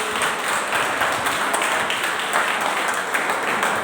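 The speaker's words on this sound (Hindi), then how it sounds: "तालियों से स्वागत कीजिए" Audience at an excellence award ceremony applauding a civil engineering student who took the top position, steady sustained clapping from many hands filling a hall for several seconds.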